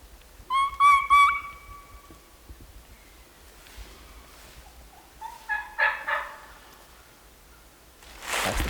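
Wild turkey gobbler on public land in the evening, gobbling twice in the distance: a first rattling burst early on and a second, fainter one a few seconds later, amid quiet woods with no talking.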